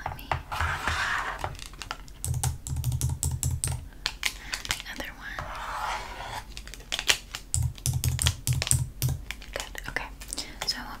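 Rapid, close typing on a computer keyboard in a hotel check-in roleplay, with bursts of clicking keys and pauses while a soft voice murmurs in between.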